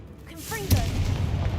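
A brief voice calls out, then a Confringo spell bursts in Hogwarts Legacy with a sharp, loud blast that rolls into a sustained low rumble.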